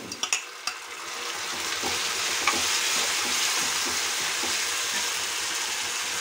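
Onion, green chili and tomatoes sautéing in a pan, a steady close sizzle following a few clattering taps at the start.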